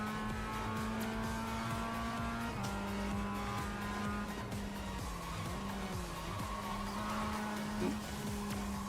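A Mazda MX-5 race car in the iRacing sim hums along with a steady engine drone whose pitch rises and dips through gear changes and corners, carrying continuously at a moderate level with no voices.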